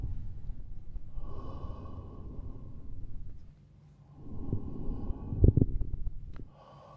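A patient draws slow, deep breaths during a chest examination, a long inhale followed by a pause and a breathier exhale with a few sharp rustling bumps, close and quiet with no talk.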